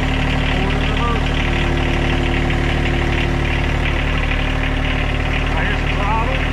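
A John Deere 1025R compact tractor with backhoe and 60-inch mower deck idles loudly and steadily nearby, a continuous low engine rumble with slight knocking texture.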